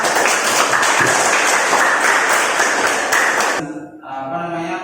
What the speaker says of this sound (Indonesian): kita tepuk tangan dulu biar semangat